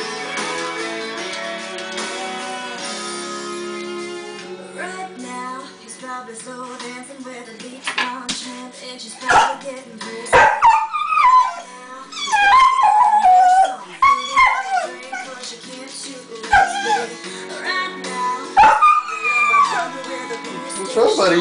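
A pet dog howls, yips and whimpers along to a song playing loudly, its wavering howls rising in long slides over the music, close to the mic.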